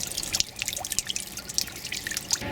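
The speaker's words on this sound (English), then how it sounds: "the barrel just keeps filling." Rainwater drips steadily into a backyard rain barrel as it fills, a fast irregular patter of small close drops over a quiet watery background.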